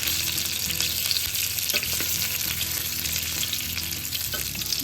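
Stuffed eggplants for a Marathwada-style bharli vangi masala fry in oil, a continuous close sizzle broken by scraping stirs and occasional clinks of the spoon, with no speech.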